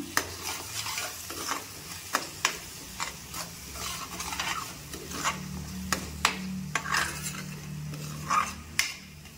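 Crab curry masala with coriander powder fries in a pan while a spoon stirs it in steady, repeated scraping strokes against the metal, close and distinct over a continuous low sizzle.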